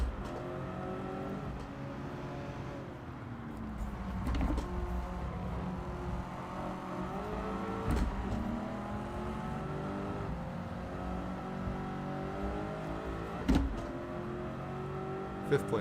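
A BMW engine in Gran Turismo 7 revs through short gears during a race, rising and falling whine over a steady motor drone, with quick upshift drops and a few sharp knocks.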